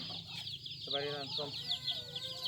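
Village chickens in rural Thailand or Laos cluck in short bursts close by, a few quick clucks over a steady high insect or bird chatter.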